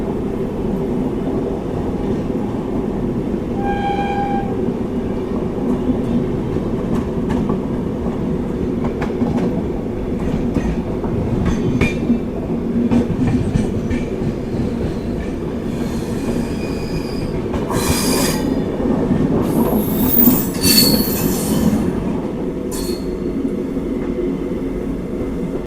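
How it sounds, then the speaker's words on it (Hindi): Navjivan Superfast Express train rolling through points as it switches onto a loop line, a steady close rumble of wheels with faint clicks and brief metallic squeals, no talking. "ट्रैक चेंज हो रहा है।"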